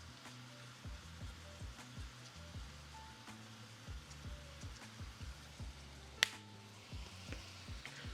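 Steak meat browning in a hot pan, a steady crackling sizzle with frequent small pops and spits, close and fairly quiet, with one sharper snap near the end.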